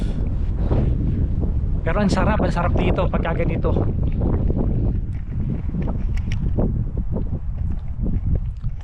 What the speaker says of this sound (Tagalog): kung maririnig yung mga kapanyero yung buga ng hangin na naman dito